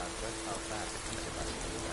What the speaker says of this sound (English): I feel like it's just been raining a lot.